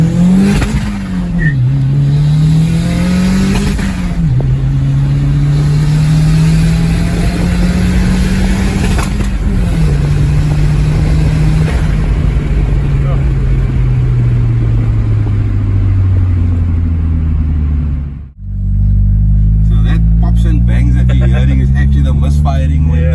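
Toyota MR2 with a 3SGTE turbo engine revving hard and steadily, its pitch rising and falling in long sweeps, with crackling pops and bangs from a crank sensor misfire; a brief cut near the end before the engine note returns, with talk heard.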